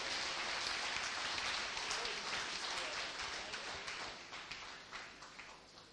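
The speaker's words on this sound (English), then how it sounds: "Shall we give a clap of hands to Jesus Christ?" A church congregation applauds steadily, dense and continuous, gradually thinning toward the end with a few scattered claps.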